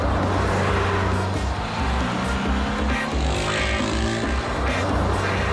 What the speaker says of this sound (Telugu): ఏంటి ఇంత వేగంగా వెళ్తుంది బస్సు?